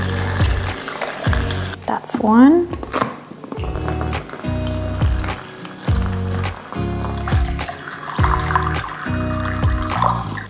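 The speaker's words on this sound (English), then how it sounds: "we are going to pour back and forth the solution from the bottle to the pitcher." Cinestill C41 film developing chemistry poured back and forth between a bottle and a pitcher, with repeated gurgling pours in a steady rhythm, close and loud, and a person speaking briefly over it.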